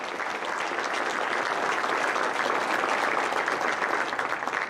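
Audience applause at an awards ceremony, a steady wash of many hands clapping through a hall, even and sustained from start to finish with no voices over it.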